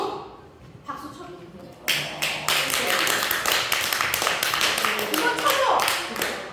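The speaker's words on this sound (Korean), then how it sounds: "박수 쳐." A small church group bursts into clapping after a quiet spoken moment; brisk, close hand claps run steadily for several seconds, with voices briefly heard before they start.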